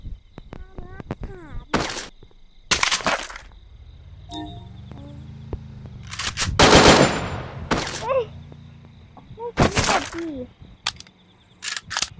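Gunfire in the mobile shooter Free Fire: several loud, separate bursts of rapid shots with gaps between them, a low engine-like hum in the background and brief speech.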